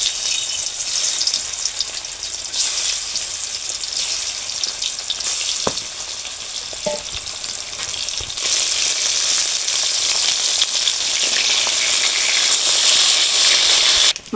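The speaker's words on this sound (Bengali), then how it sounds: "গরম হয়ে গেছে, মাছগুলো দিয়ে দেবো।" Pieces of turmeric- and salt-rubbed silver carp sizzle and spit in hot oil in a karahi, a steady loud frying hiss with brief louder crackles, no voices.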